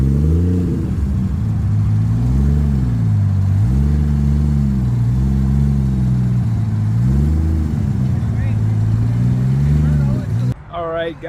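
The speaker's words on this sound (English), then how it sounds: "Another old school Supra just showed up." An old-school red Toyota Supra engine rumbles steadily at low revs while backing into a spot at a car meet, its deep tone swelling and easing in slow waves before cutting off abruptly near the end.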